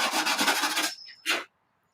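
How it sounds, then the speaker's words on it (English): Sanding the small tabs off a lock washer during a buggy engine rebuild gives a short, close, gritty rasping burst, then a brief pause and a second quick scrape before silence. "Sand these little tabs off from the lock washer."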